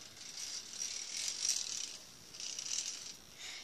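A K'nex toy tractor with a gear and chain drive running: a faint, steady plastic rattling and ticking of meshing gears and chain that swells and eases slightly, heard alone.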